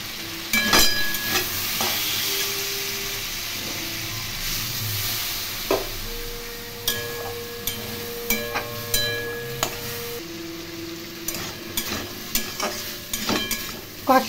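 Taro and potatoes with salt, sugar and spices sauté in a pan for a Bengali curry. A steady sizzle runs throughout, with repeated scraping and stirring strokes of a spatula close by.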